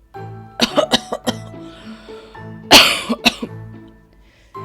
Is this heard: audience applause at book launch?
no